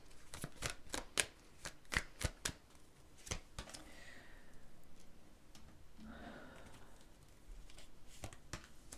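Timing cards riffled and shuffled by hand in a quiet room: a rapid run of sharp card snaps and flutters, then softer sliding and handling, with a second burst of snaps at the end.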